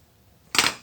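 A single quick snip of scissors cutting the corner off a Ziploc bag to improvise a piping bag, one short sharp crisp cut after near silence.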